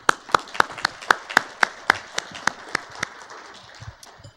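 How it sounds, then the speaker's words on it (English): At a craft symposium, a small audience gives sparse applause: a steady run of distinct claps, about two per second, that fades away toward the end. "She deserves a big round of applause."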